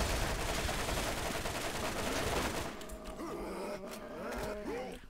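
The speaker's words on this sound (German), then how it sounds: "Oh, ich hab ja eine Shotgun-MG." Rapid automatic gunfire from a shotgun-type machine gun in the video game Borderlands, a dense loud burst of shots that stops abruptly, followed by scattered clanks and game effects.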